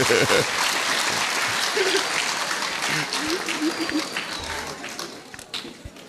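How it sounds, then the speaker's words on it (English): An audience claps for preschoolers at a national science fair, a moderate, somewhat uneven round of applause that thins toward the end, with faint voices and movement mixed in. "Let's give them a round of applause, please."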